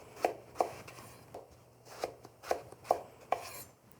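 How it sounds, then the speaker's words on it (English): Knife cutting eggplant into long planks on a board for ratatouille, about seven soft, close, distinct thuds spaced at a slow, even pace. "I cut them into planks, which basically means long strips the length of the eggplant"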